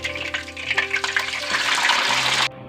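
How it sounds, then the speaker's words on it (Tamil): Prepared chicken and potato curry gravy is poured into hot oil that has been tempered with curry leaves. It makes a loud close rushing splash and hiss for about two and a half seconds, then cuts off sharply. "நம்ம ரெடி பண்ணி வச்சுருக்கிற இந்த குழம்பு இதில் ஊற்றிடலாம்"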